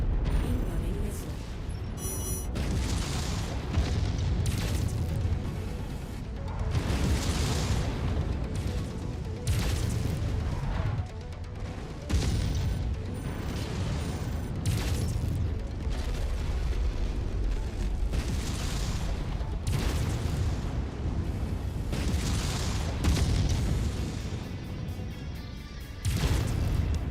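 Missiles explode in a MechWarrior mech battle as heavy booms and rumbling blasts that follow one another continuously for nearly half a minute, loud and dense, with mechanical clanks underneath.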